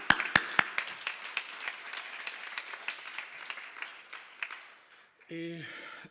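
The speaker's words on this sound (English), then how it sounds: "let's give them a nice and warm applause, please." Audience applause at a college fall convocation: scattered, moderately loud claps ringing through a hall and tapering off, followed by a brief voice at the end.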